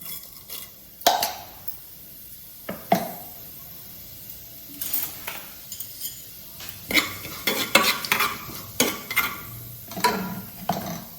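Cinnamon, cloves and cumin crackle in hot oil for tomato rice while a spoon clinks and scrapes against the pot in scattered sharp bursts, the low sizzle running quietly between strokes.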